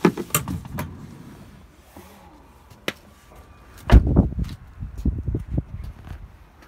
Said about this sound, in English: Easy access to the back door by push of a button.